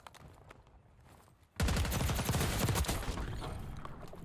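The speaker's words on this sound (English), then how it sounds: "There's one more person that shot though" Call of Duty Black Ops 6 Warzone gunfire: quiet scattered shots at first, then a sudden loud, dense automatic volley that keeps rattling rapidly until the end.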